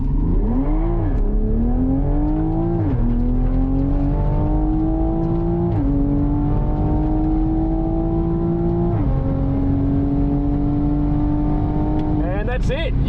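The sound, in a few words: car making a drag racing pass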